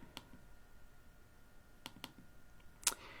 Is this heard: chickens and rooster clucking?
no